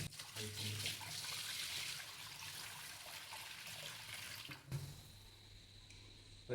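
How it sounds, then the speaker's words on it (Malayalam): Water runs into a sink being filled to test for leaks, a steady close trickle and splash with a low hum underneath, briefly interrupted by a clunk near the end. "നമുക്കിതിൽ വെള്ളം ഒഴിച്ചിട്ട് ചെക്ക് ചെയ്യാം"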